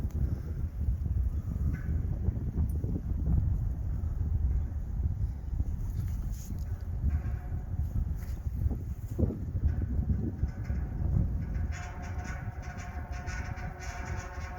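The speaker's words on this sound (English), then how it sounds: "It's the wind." Gusty wind blows outdoors near a dredged creek, a steady low rumble buffeting the microphone with a few brief rustles and knocks, no voices.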